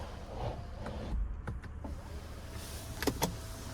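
The one-touch power sunroof of a 2025 Chevy Traverse RS hums briefly as it closes, a soft motor whir with faint clicks inside the quiet cabin.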